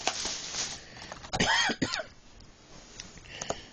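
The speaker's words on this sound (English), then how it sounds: "I've been under the weather, so excuse my low voice and coughing." A person coughs and clears their throat in a short, close burst, raspy and harsh, followed by quieter breathy noises and faint background hiss.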